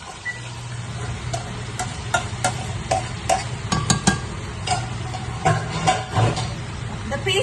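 Marinated mutton with onion paste frying in hot oil in a pan, a soft continuous sizzle with light scraping and stirring clicks, fairly close.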